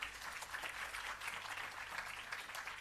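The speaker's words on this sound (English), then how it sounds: "Another round of applause" Soft, distant applause from an audience at a public relations campaign launch event, a continuous patter of clapping at low volume with no voices.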